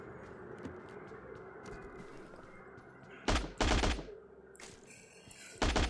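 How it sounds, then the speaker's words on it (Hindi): Automatic gunfire in a shooter video game: faint distant shots early, then loud close bursts of rapid fire mid-clip and again at the end over a quiet ambient background. "फिर आगे मुझे कुछ आवाज़ें आती है गोलियों की"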